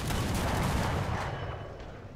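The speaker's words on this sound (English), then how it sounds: "So we drop some artillery on them. Roger that. Artillery, fire!" An artillery barrage lands during a War Thunder tank battle: a loud, dense burst of rumbling blasts that fills the whole clip and slowly fades, with no talking over it.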